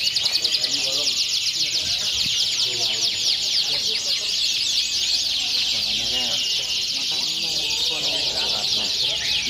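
A canary at a bird contest in Magetan sings a dense, continuous stream of high trills and chirps, loud and close, while people talk faintly in the background.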